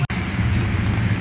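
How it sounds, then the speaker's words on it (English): Steady, loud rain pours down outdoors with a dense hiss and low rumble, close and continuous apart from a brief dropout at the very start. "It is raining."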